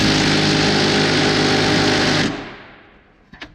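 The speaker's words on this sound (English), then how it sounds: "You know it's snug when your impact won't loosen it up." Pneumatic impact wrench hammering hard on a snug sway bar end link of a lowered GMC Yukon Denali, a loud continuous rattling burst for about two seconds that winds down, followed by a few faint clicks.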